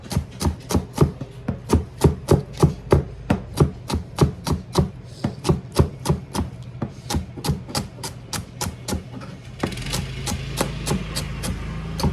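A knife chops celery stalks, each sliced into four sections, on a cutting board: a fast, even run of sharp, close knocks for about ten seconds before the rhythm breaks and a brief rustle takes over.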